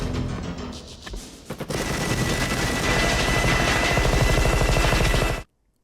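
Rapid automatic gunfire from the video game Rimworld with the Vanilla Weapons Expanded Quickdraw mod, a few sharp opening shots followed by a dense, continuous burst of fast rounds that stops abruptly into silence.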